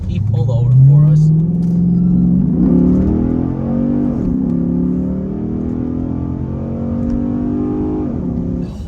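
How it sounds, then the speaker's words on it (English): A Chrysler 300 SRT8 with 77,000 miles accelerates hard to pass a large truck, its engine note climbing in a deep rising roar heard from inside the cabin, with someone talking over it. "We have a pretty large truck in front of us now that we're going to be able to pass with some gusto"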